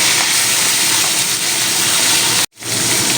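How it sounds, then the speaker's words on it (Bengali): Turmeric-rubbed fish pieces fry in hot oil in a pan, a steady, dense sizzling hiss that runs throughout and cuts out abruptly for a split second near the end before resuming. "এরকম উল্টে পাল্টে মাছগুলো খুব ভালো করে ভেজে নিতে হবে"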